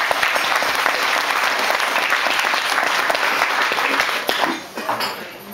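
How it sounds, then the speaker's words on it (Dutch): A crowd at a rural farmers' wedding party in a village hall claps in sustained, dense applause that fades slightly toward the end, with faint voices underneath. "Geef hem een applaus,"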